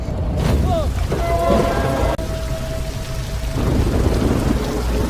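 Steady rain pours down with a low, rumbling thunder beneath it, a dense wash of noise broken briefly by a sharp sound midway.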